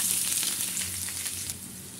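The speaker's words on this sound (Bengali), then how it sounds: "বেরেস্তা ভাজা" Sliced onions fry in hot oil for birista, a steady, close, dense sizzle with crackling bursts running unbroken throughout, no voices.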